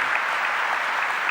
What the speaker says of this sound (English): A big round of applause for both of them, please.